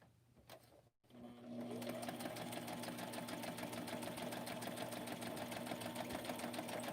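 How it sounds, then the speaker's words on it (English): A sewing machine stitching through paper pages runs in a steady, loud, rapid mechanical chatter after a brief start and pause, continuing unbroken to the end. "So let me sew this."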